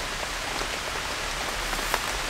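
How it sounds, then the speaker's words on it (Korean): Rain falls on a tarp tent in a rain forest, a dense, even patter close overhead with a few sharper drops standing out near the end. "빗소리가 너무 감미로워서 좋은데"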